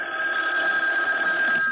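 An old-fashioned telephone bell rings loudly and steadily in a quiet home, a continuous metallic trill filling the short moment with no voices.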